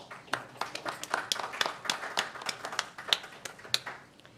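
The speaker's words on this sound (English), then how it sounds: "I'd like for our board to give you a round of applause" Scattered clapping from a small group of board members at a MARTA board meeting, a few dozen uneven claps over several seconds at moderate loudness in a quiet room.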